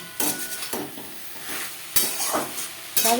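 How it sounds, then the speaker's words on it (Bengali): A spatula scrapes and stirs telakochu greens with split green chillies in a hot frying pan, several distinct strokes over a soft background sizzle, close and with no voices. "সাথে কাঁচা লঙ্কা বেশ ভালো করে মিক্স করে দেবো"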